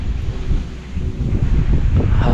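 Strong wind blows across a newly built terrace, buffeting the microphone with a loud, steady low roar that swells and gusts throughout.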